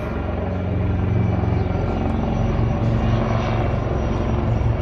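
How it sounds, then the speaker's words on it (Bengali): Several helicopters pass overhead one after another on Republic Day, their rotors thrumming steadily in a loud, low, continuous drone with no talking. "আর দেখো আজকে কত হেলিকপ্টার যাচ্ছে"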